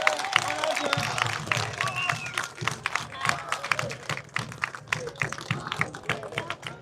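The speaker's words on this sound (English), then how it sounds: "Give yourselves a round of applause" A crowd at an outdoor protest in Manchester's Piccadilly Gardens applauds in quick, uneven claps with a few cheers and scattered voices mixed in, sustained and fairly close throughout.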